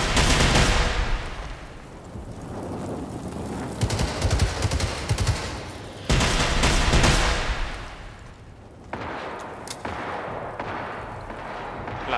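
Bursts of automatic gunfire from the video game Generation Zero, dense rapid volleys repeating across the stretch with brief pauses between strings of shots, loud and close with no talk over them.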